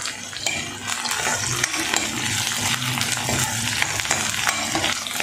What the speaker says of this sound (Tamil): வெங்காயம் பூண்டு நல்லா வதங்கிருச்சு.